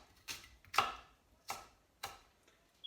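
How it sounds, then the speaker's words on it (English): A kitchen knife slicing through a peeled onion on a cutting board, four crisp separate chops at a steady unhurried pace, close and clear with no talking. "I take some layers of the onion off, and then I slice it"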